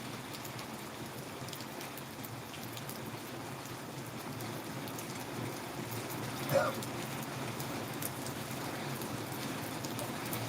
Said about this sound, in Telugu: కొంచెం తుంపూర్ల వర్షం నుంచి కొంచెం భారీ వర్షం సైడ్ అయితే కురుస్తుంది